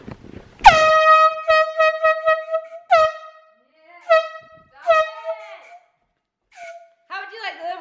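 A loud air horn blasts close by in a long opening burst, then several shorter honks follow with gaps between them, and a voice or laughter comes in near the end.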